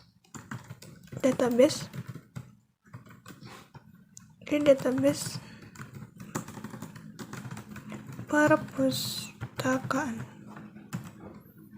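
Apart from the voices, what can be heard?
typing on a computer keyboard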